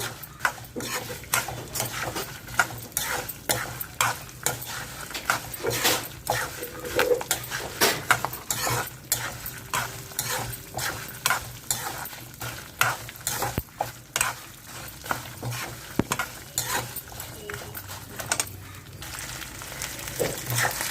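Spices and green chillies fry in hot oil in a pan, giving a steady close crackling sizzle with frequent sharp pops and stirring scrapes, and no talking throughout.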